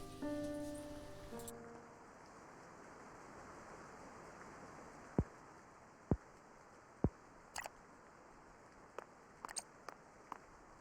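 Rain falls steadily in the video game Triangle Strategy, a soft continuous hiss broken by a few sharp clicks and taps, after a short musical tone fades at the start.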